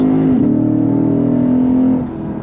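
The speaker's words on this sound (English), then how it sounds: "the sound of the V8 is worth the price of admission" A Lexus IS 500 F Special Edition sedan's V8 holds a loud, steady engine drone heard from inside the car, the pitch sagging briefly then settling before easing off near the end, with no talk.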